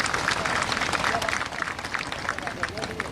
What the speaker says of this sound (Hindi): पूर्व मुख्यमंत्री आदरणीय डॉक्टर रमन सिंह जी, उनका ताली बजा के अभिनंदन कीजिए